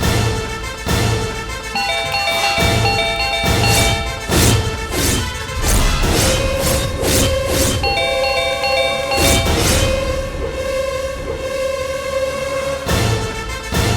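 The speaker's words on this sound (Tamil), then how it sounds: "இவ்வளவு தூரம் காலிங் பெல் அடிச்சும் யாரும் திறக்க மாட்டேங்கிறாங்க?" A loud electronic doorbell chime rings repeatedly over busy music, its ding-dong tones recurring in bursts through the whole stretch.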